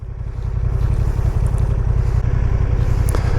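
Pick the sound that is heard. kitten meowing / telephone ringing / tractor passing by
tractor passing by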